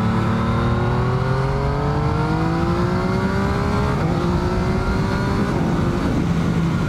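A 2019 Yamaha MT-09 motorcycle accelerating hard, engine revs climbing through several quick gear changes with brief dips at each shift, loud and close with no talk.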